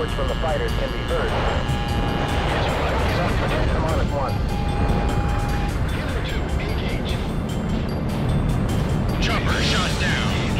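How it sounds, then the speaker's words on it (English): Ace Combat 04 air combat plays loud and dense, with jet engine roar, rumbling blasts and whining tones layered continuously through the whole stretch, overlapped by game chatter. "Various explosions and reports from the fighters can be heard."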